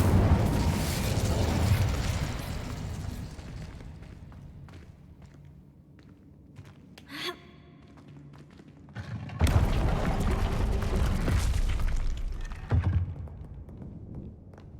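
Incendio fire spell from the Hogwarts Legacy video game: a loud fiery burst fades into a quieter stretch with a short whoosh, then a second strong roaring blast swells and holds before tailing off.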